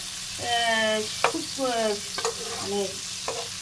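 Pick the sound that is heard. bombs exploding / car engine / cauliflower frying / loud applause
cauliflower frying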